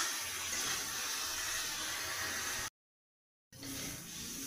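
Water pours steadily into a pan of fish and potato curry, a continuous broadband rush that breaks off into a brief silence before resuming.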